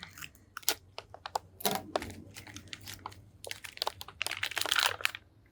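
Close crinkling and crunching of plastic and foil packaging as a FEMA emergency meal pack is torn open, a dense run of irregular crackles that grows busier toward the end, with no talking.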